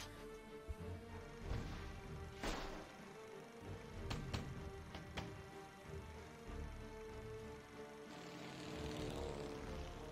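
Propeller aircraft engine drones steadily in the World War II naval strategy game 1942 Pacific Front, joined by several sharp cracks and impact bursts of combat, all fairly faint with no talk.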